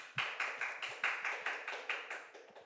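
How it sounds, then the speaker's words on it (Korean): A church congregation at a Sunday afternoon service in Daegu gives a round of applause for the pastor, heard as a sparse set of rhythmic claps that slowly fade, fairly quiet and with no talking. "우리 목사님께 감사의 박수를 한번 드리겠습니다."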